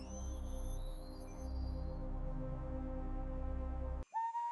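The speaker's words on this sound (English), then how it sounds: "My whistle meets its echo." A person whistles a few sliding, wavering tones that fade into a soft echo, followed by a brief sharp higher whistle at the end, all over a low rumbling background.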